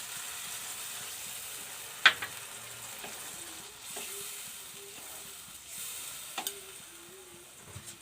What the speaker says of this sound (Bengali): মশলা কষানো হয়ে গেছে, এবার আমি জল দিয়ে দিচ্ছি।